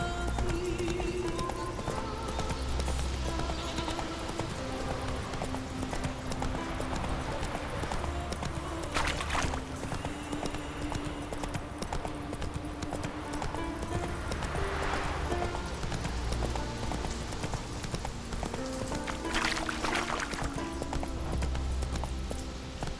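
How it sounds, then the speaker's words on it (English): Horse hooves clip-clop at a steady gallop through a Witcher 3 game scene, a continuous rhythmic pounding under faint ambient music, with a couple of brief whinnies or snorts rising over the running. "Run, Roach."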